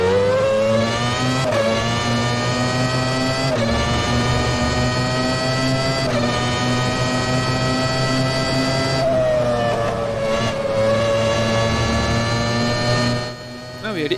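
McLaren F1 race car engine in the rFactor 2 sim racing game, a loud sustained multi-harmonic drone that climbs and drops with repeated gear shifts and revving, close and continuous throughout with occasional tire squeal.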